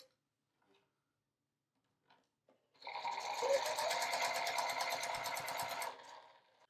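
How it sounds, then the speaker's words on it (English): A sewing machine top-stitches across a freshly sewn fabric seam. A few faint handling clicks come first, then a quick, even whir of stitching runs steadily for about three seconds and fades out. "then top stitch across that side we just sewed"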